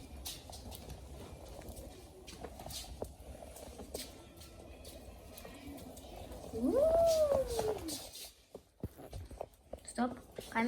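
A house cat gives a single drawn-out meow partway through, rising and falling, heard over quiet room noise and under a person talking.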